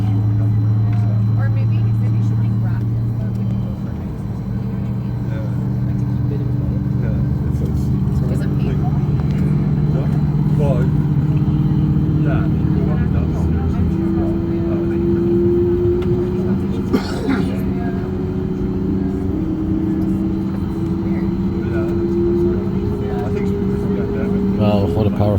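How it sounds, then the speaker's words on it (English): Boeing 737 MAX 8 jet engines power up, heard from inside the cabin as a steady droning hum whose tone rises partway through. Voices talk over it throughout. "Engines are powering up."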